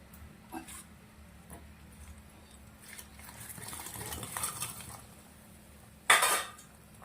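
Momos tipped into a pan of simmering garlic chilli masala make soft, faint clatters and light scraping, then a sharper metallic clank near the end, with no one talking.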